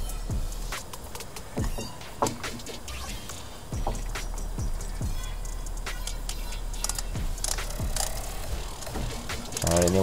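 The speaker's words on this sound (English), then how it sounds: "you can just start ratcheting, and it's gonna push the piston back out" Brake caliper piston compressor tool being ratcheted while replacing front brakes on a 2007 Hyundai Tucson, giving repeated sharp ratchet clicks over steady low background noise, close and moderately loud.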